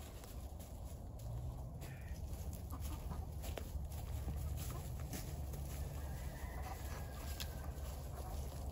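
A backyard flock of chickens clucks softly in the distance over a steady outdoor background hum, with a few faint calls scattered throughout.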